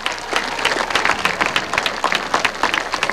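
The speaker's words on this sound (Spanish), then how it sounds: "Un fuerte aplauso para ello." An audience at a presidential launch of a programme for street children breaks into loud, dense applause. Clapping fills the space continuously and close by, with no talk over it.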